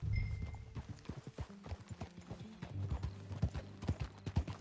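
Horse hooves clip-clop in a steady riding rhythm in Red Dead Redemption 2, close and fairly quiet, with a low hum underneath.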